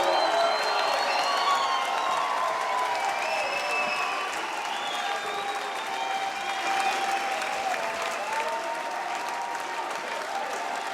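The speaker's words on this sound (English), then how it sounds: "Stand up and give these warriors a round of applause." Sustained crowd applause with scattered cheers and whoops for boxers after an amateur bout at the Roseland, a full, even roar of clapping with no talk over it.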